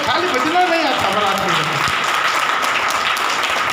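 Audience clapping during a Hindi Bible study session on the Song of Solomon, a steady dense patter of hands under a voice speaking at the start, continuing alone to the end.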